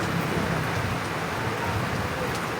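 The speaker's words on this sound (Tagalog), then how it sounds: "nagulan na naman eh" Steady rain patters densely on a tarp, a constant hissing wash of drops, close and unbroken.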